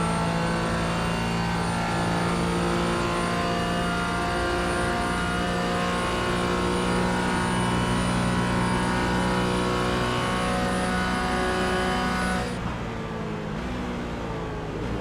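Onboard engine note of a Porsche GT4 race car in a sim-racing game at Daytona, a loud sustained drone holding a near-constant pitch for most of the run, then cutting back abruptly near the end.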